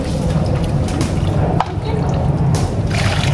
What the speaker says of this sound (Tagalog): Yan, ganun sila magpuno ng tubig.